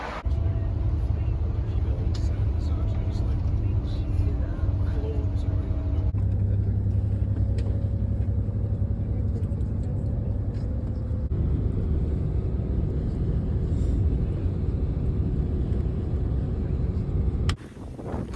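Steady low rumbling wind buffeting the microphone in the Scottish mountains, loud and continuous, with faint voices underneath.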